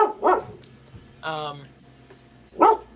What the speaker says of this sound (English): dog's barking. She's freaking out.